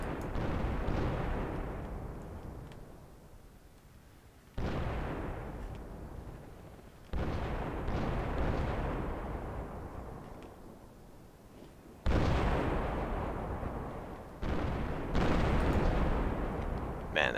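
Artillery fire in the video game Project Reality, on the Muttrah City map: a series of heavy booming impacts, each followed by a long rumbling decay, spaced a few seconds apart.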